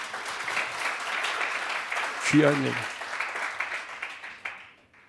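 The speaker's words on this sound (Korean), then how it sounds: "우리 수고한 예배팀에 박수 한번 쳐주세요." Applause from a church congregation for the worship team at a Friday service, a sustained mid-level clapping wash under a pastor's brief spoken words, thinning out and fading toward the end.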